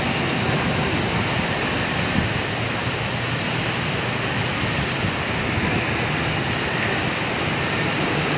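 A long KL Monorail train in Kuala Lumpur runs past with a steady, continuous rumble and hiss that stays loud and even throughout, with no talking.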